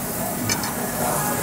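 Meat sizzles steadily on a Korean BBQ grill at a restaurant, a broad close hiss with a faint clink of utensils, while a voice talks over it.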